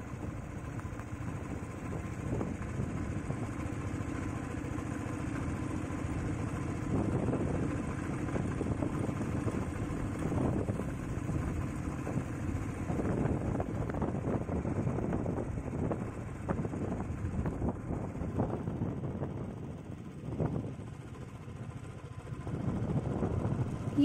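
A motorcycle on a monsoon ride near Pune, its engine a constant low drone heavily blended with wind rush and road noise, steady and unbroken throughout, with no talking.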